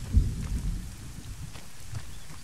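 Thunderstorm with steady rain in the ArmA 3 video game, with a low rumble of thunder near the start under a constant hiss of rainfall. No voices are heard.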